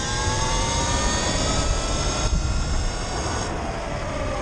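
A Sur-Ron Light Bee electric dirt bike, upgraded to 72V with a BAC 4000 controller rated at 16000W, accelerates at full throttle with a loud, steady, high-pitched electric whine that holds its level throughout, with no talk over it.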